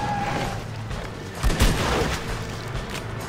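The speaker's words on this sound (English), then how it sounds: "That was explosive rifle, huh?" Explosive rifle blasts in the Red Dead Redemption: Undead Nightmare video game, a sharp booming burst around the middle of the clip over a steady game background.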